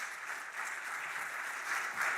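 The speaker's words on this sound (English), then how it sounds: "please give them a big clap as they come up" An audience at a global malnutrition panel applauds as speakers come up on stage, dense steady clapping that swells slightly toward the end.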